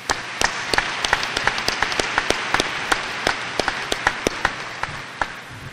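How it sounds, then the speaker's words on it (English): Applause rises from a crowd at a Centralia High School graduation ceremony, a dense wash of clapping dotted with sharp, distinct individual claps close by, sustained evenly throughout. "Let's give these guys a round of applause."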